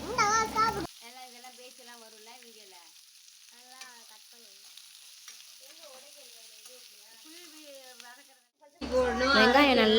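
Onions sautéing in a pan for chicken gravy give a steady high sizzle that swells loud at the start and end, dropping under a voice talking through the middle.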